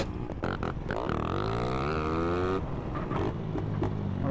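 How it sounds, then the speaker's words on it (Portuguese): A motorcycle engine running, revving with a rising pitch then settling into a steady idle, close and loud, with no speech. "Vou encostar a moto aqui, rapaziada."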